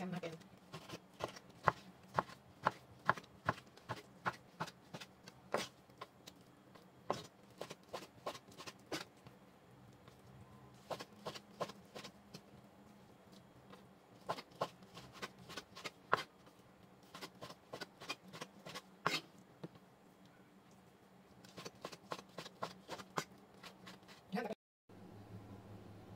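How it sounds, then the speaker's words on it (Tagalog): Repeated knife strokes slicing pork meat into small pieces on a cutting board in a home kitchen, sharp taps in quick bursts with short pauses between runs, close and steady, clustered over about twenty-five seconds. "Slice natin ng maliliit ang meat."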